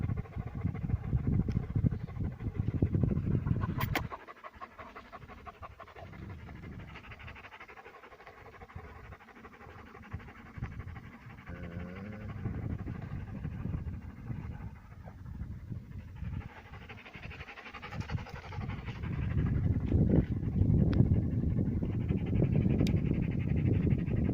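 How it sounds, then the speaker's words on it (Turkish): Shepherd dogs pant steadily after exertion, a close continuous rhythm of quick breaths running throughout, with some low rumbling background noise. "Soluk soluğa duruyorlar zaten bak."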